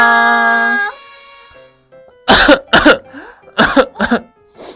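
Several sharp coughs from a child in quick bursts, loud and close, following a short held musical tone that fades out.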